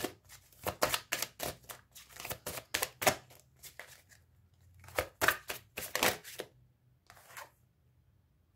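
Tarot cards are riffled and snapped in quick, crisp bursts close up, a rapid run of papery flicks, a short pause, then another flurry and a few single card slaps.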